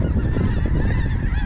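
Snow geese and specklebellies honking during a North Dakota hunt, a dense overlapping chorus of many goose calls, loud and continuous, with no talking.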